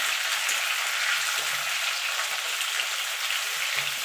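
Raw mango pieces frying in hot oil for a homemade sweet-sour pickle give a steady, close hiss of sizzling with faint crackle throughout, no talking.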